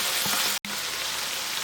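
Baby bok choy, about 1.5 pounds, sizzling steadily in a hot pan, a close, even hiss broken by a brief dropout, with no talk.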